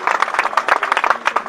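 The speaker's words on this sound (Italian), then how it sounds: "Un grandissimo applauso ancora per Paolo Barrai" A brief burst of applause for Paolo Barrai, a handful of close, loud irregular claps at a public talk.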